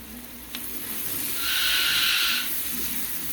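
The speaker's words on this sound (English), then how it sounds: "we're going to add the garlic real quick. And you want to just saute that until it starts to get really aromatic" Garlic sautéing in a pan for a cream of broccoli, mushroom and Swiss soup gives a soft, steady sizzle that swells louder for about a second midway, then settles back down.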